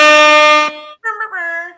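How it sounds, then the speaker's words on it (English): Blaring air horns sound as a show outro, a sustained loud blast cutting off, then a shorter wavering honk sequence close and alone. "Jay, get you your air horns as your outro as well"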